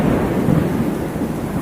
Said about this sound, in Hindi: रात भर तेज बारिश होती रही